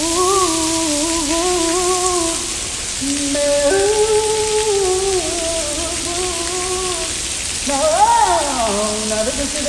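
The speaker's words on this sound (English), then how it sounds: "We're in a parking garage, just pouring down rain." Heavy rain pours down around a parking garage in a steady loud hiss, while a tonal, voice-like sound rises and falls over it.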